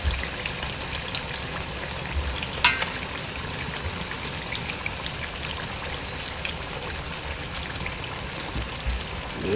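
Food frying in hot oil over a wood-fired setup makes a dense, continuous crackling sizzle, close and fairly loud, with a sharper pop partway through.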